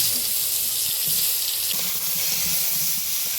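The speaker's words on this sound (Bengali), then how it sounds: "এঁচোড়টা হালকা লাল লাল করে ভেজে নিব।" Raw jackfruit and potato pieces frying in oil in a wok, a steady hissing sizzle with faint low bubbling underneath.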